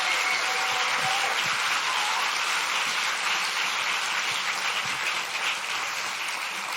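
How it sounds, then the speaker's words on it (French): A comedy-show audience breaks into loud, sustained applause, a thick continuous wash of clapping hands from a large crowd that holds steady for several seconds. "merci beaucoup pour cet applaudissement"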